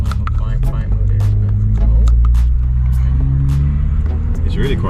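A Toyota Supra MK5 A90 fitted with an HKS exhaust idles in quiet mode, a low, steady engine rumble heard close by, with people talking over it.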